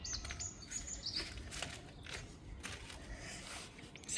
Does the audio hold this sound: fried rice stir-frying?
no